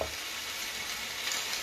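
Beef and onion pie filling frying in a pan, a dense, even sizzle that stays close and steady throughout with no voices over it.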